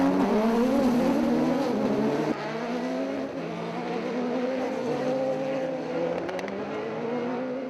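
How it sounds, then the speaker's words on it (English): Autocross race cars roar around a dirt circuit, loud sustained engine drone with shifting revving pitches from several cars, steady and dense throughout. "Autocross sport at its best."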